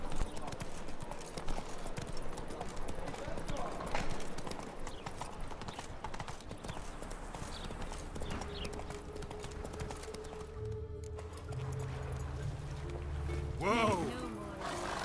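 Roach the horse gallops in The Witcher 3 with loud, rapid, steady clip-clop hoofbeats and a brief whinny near the end, while voices and game sounds play underneath.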